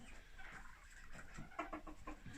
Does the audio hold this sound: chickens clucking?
yes